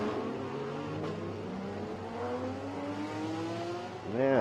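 An Audi race car runs on track during a live race broadcast, a steady loud engine drone with rising pitch sweeps as it accelerates, then a sharp rev change near the end.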